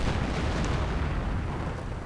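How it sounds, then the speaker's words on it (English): Artillery shells explode in a World War II strategy video game as a dense, low, rumbling roar that holds steady and loud throughout without clear separate blasts. "Artillery going down somewhere."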